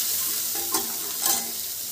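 Boiled mashed potatoes with turmeric and salt are stirred in a hot pan, a steady sizzle with two brief scraping strokes of the spoon.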